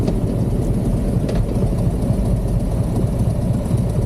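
A motorcycle engine idles nearby, a steady, loud, low rumbling drone that stays even throughout with no talk.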